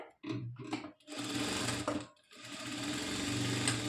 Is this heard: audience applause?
no